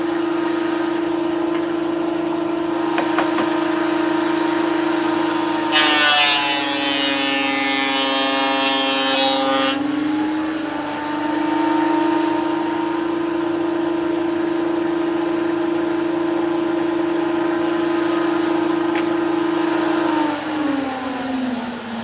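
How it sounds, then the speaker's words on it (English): A planer cuts recycled timber with a steady, loud motor hum. A sharper, brighter whine rises for a few seconds while a board passes through, then the machine settles back to its even drone. "So I just finished planing one side of the timber."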